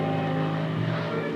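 Research vessel Geronimo's engines run slowly as the boat edges toward a sea lion rookery offshore, a steady low droning hum with water wash, continuous and fairly close throughout.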